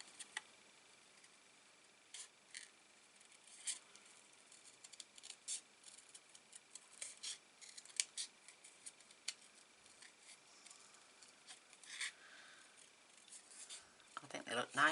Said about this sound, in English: now we've just got to fussy cut our sentiment